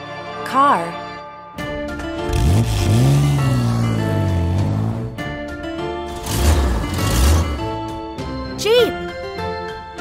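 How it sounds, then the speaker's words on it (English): A car drives past and revs with rising and falling engine tones, louder in two swells, mixed with short bursts of bright voice-like or music sounds at the start and end. "Car."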